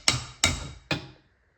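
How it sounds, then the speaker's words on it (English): Three sharp, loud metal hammer blows strike a power steering rack unit being knocked loose from a Mazda FC RX7, each impact ringing briefly before the next, then fading. "I might need to hammer this out in order to get this whole unit out."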